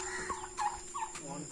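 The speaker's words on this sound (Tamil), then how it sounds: "அடுத்த இதெல்லாம் வான்கோழிங்களா" Several turkeys gobble in quick bursts, close by, in the Pachamalai hills, with a steady background hum throughout.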